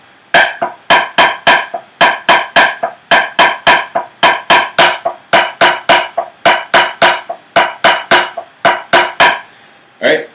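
Marching bass drums playing an accent tap exercise: a steady stream of loud, sharp strokes in grouped rhythmic patterns, with clear accents among the taps, close and alone.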